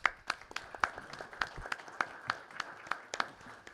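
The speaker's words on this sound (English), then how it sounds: "please give her a round of applause" A small group applauds at a commission meeting, scattered individual handclaps in an uneven rhythm, fairly faint and sparse, lasting a few seconds without talk.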